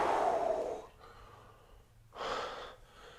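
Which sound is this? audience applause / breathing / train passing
breathing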